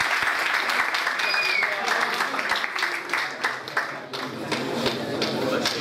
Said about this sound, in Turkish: Konuyla ilgili alkışlarınızı.